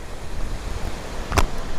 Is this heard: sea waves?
yes